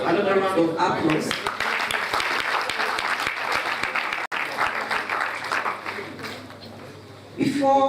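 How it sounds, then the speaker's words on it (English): Audience applause at a scientific conference opening, sustained clapping from a large crowd lasting several seconds, with a speaking voice at the start and as the clapping dies away. "Can we please have another round of applause?"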